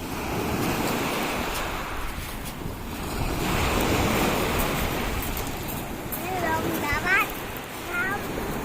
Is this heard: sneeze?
no